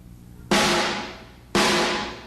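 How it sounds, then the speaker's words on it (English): Two loud, sharp drum strikes about a second apart, each combining a rim shot with a hit to the center of the head, giving a cracking attack and a long ringing decay, played alone with no talking. "hitting a rim shot and hitting in the center of the drum"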